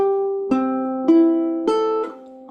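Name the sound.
ukulele strings plucked in turn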